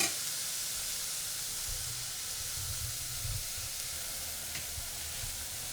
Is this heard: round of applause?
no